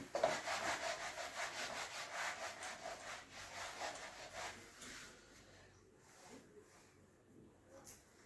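Writing being rubbed off a board, a quiet rhythmic back-and-forth scrubbing lasting several seconds, then fading into softer, sparser rubs.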